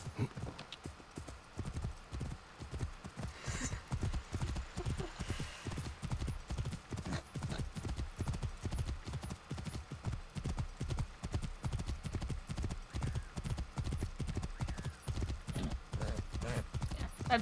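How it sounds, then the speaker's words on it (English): Horse hooves clip-clop at a steady trotting rhythm in the video game Assassin's Creed Origins, loud and continuous throughout, with a brief whinny early on and a faint voice occasionally underneath. "There you are, my horsey."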